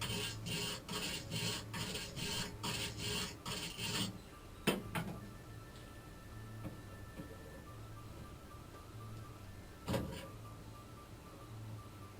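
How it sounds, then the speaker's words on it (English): Rhythmic metallic rasping and creaking as an adjustable wrench bends sheet metal back and forth on a 1970 Chevy Impala Custom, quick repeated strokes at first, then quieter scraping with a couple of sharp clanks, faint and close. "I am currently using an adjustable wrench to bend that metal up and down"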